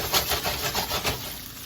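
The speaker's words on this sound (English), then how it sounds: "I like to kind of move my pan around a bit. And just saute that." Beef sautéing with string beans in a frying pan that is moved around on the stove gives a steady, close scraping rasp with rhythmic rubbing swells and no voices.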